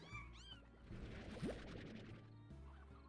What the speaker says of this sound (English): Heard some cats.